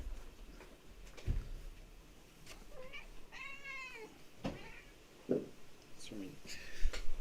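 Several short meows from a house cat come through in the background, scattered among faint room noises while a person talks over them.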